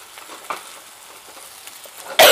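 Cabbage chutney ingredients with tamarind fry in a pan, giving a soft, low sizzle with light stirring scrapes that ends in a sudden louder burst.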